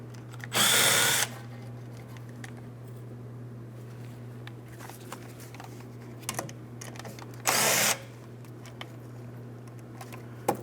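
Two short, loud bursts of a power tool loosening the rear brake caliper mounting bolts on a 2008-2016 Chrysler Town & Country, separated by several seconds of quiet hum and light clatter.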